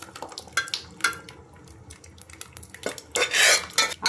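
Cooked dal tipped into a simmering tamarind broth for Telangana daalcha, with clattering pot and spoon knocks and a wet splashing pour near the end, close and uneven, no talking.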